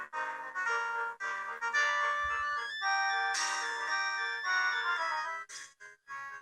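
Built-in speakers of an IBM ThinkPad 760XL laptop playing DOS game music, a bright, clean synthesized melody in short phrases with brief pauses, fairly loud and alone.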